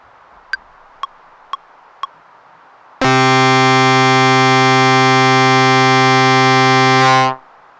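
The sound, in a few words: harsh distorted octave Cs through Boss Metal Zone MT-2 pedal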